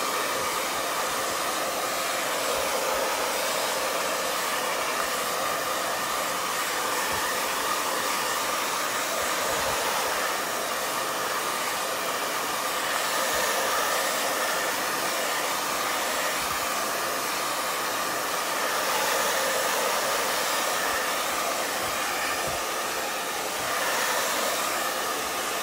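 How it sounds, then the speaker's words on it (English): A hair dryer blowing steadily and loudly at close range to dry a water slide decal on a 30 oz tumbler, an unbroken hiss of moving air with no talking. "I'm gonna use my hair dryer really quick just to speed it up for you guys."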